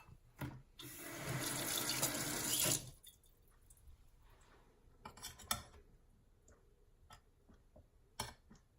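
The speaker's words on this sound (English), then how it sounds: "Let me rinse this off." Tap water runs steadily into a sink for about two seconds while something is rinsed off, then stops, followed by scattered clinks, taps and small handling noises in a kitchen.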